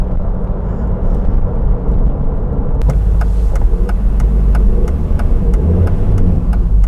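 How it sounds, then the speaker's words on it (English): A Lancia Delta rally car waiting in traffic gives off a loud, close engine rumble, with a burst of sharp, rhythmic mechanical clatter or popping partway through, and no talking. "can't help but give it a little rev when you're waiting for the traffic."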